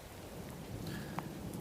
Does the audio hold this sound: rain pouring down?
yes